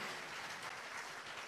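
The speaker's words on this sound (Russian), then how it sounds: "подарим им аплодисменты." Faint, distant applause from a church congregation during a televised Russian-language service, a soft continuous wash of clapping with no voices over it.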